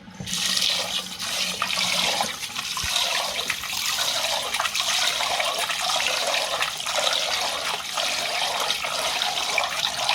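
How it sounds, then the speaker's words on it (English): Water pours steadily from a tap into a bowl of jasmine rice being washed, a continuous close splashing rush with faint shifting sloshes and no voices. "I'm going to fill this and give it a wash for the 3rd time."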